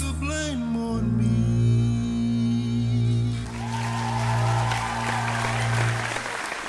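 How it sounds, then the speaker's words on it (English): Audience applause at a televised vocal competition, rising as sustained music fades out and then continuing as a dense wash of clapping. "Round of applause."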